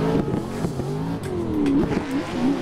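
In a racing video game, a drifting car's engine revs rise and fall in quick surges from clutch kicks, with tire squeal layered over the loud, close engine note.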